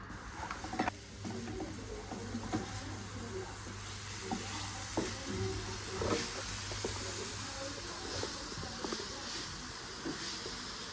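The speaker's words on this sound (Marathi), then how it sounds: "मसाला आपल्याला 1-2 मिनिटं चांगला भाजून घ्यायचा आहे" Masala roasting in a pan for a Maharashtrian sandge rasbhaji, giving a steady soft sizzle with scraping stirs and small clinks throughout, moderately close and without talk.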